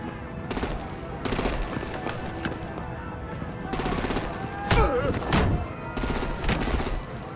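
Bursts of automatic gunfire and heavy shots in a Batman Telltale video game firefight, rapid repeated volleys separated by short pauses, with a couple of louder impacts and voices mixed in.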